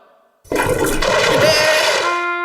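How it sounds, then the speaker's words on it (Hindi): A toilet flush in the Oggy and the Cockroaches cartoon starts abruptly after a quiet moment, then a loud, sustained rush of swirling water carries on to the end. "फ्लश ने मेरी मेहनत पर पानी फेर दिया।"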